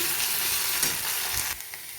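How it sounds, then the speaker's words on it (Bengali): Boiled potatoes with ginger paste being stirred in a hot pan, a dense close sizzle with a few scraping strokes of the spoon, briefly dropping quieter near the end. "এইভাবে আমি কিছুক্ষণ নেড়ে চেড়ে নিই"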